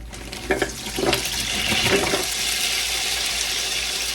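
Water pours and splashes into a hot pan while cooking ramen, quickly turning into a loud, continuous hissing sizzle with a few clinks early on.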